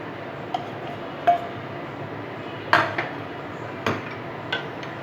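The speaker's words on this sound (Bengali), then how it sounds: "ভাজা আলুগুলো দিয়ে দেবো।" Fried potatoes are tipped into a pan of cooking bottle gourd in hot water, giving a few sharp metallic clinks and knocks of utensil on pan, spaced out over a quiet background with no talking.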